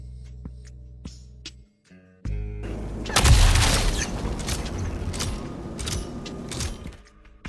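Zenith laser sniper rifle in Star Citizen, fired in a field test at a target about 80 meters away: after a few faint clicks, a loud booming discharge with a long crackling, rumbling tail that fades out.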